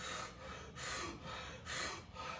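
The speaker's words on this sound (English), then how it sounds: "you're inhaling forcefully, which opens up that alveolar junction in the lungs" Forceful, sharp inhales demonstrated by a person, three loud breathy gasps spaced about a second apart, close up and with no talking.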